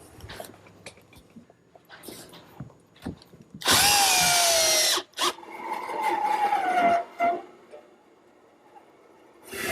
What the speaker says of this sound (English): now I'm just attaching it with some screws